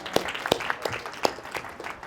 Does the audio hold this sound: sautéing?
no